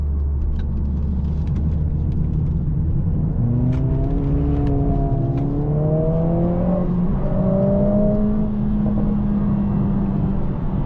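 Mercedes-AMG A45 S hot hatch with its 2.0-litre M139 four-cylinder, driven hard in race mode on a track, its engine note climbing steadily through the revs as it accelerates, loud and close from inside the cabin.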